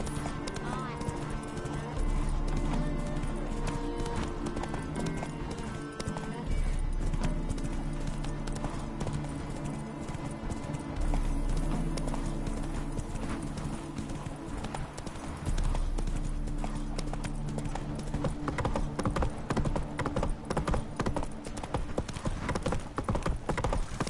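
Horse hooves clip-clop in a steady galloping rhythm in The Witcher 3, running continuously under game music and occasional character voices, close and fairly loud throughout.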